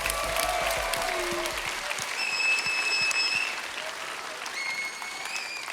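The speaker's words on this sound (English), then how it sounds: "could we have a round of applause for every mom and grandmother in here?" A church congregation at a morning service claps in sustained, dense applause with scattered whoops, fading slightly toward the end.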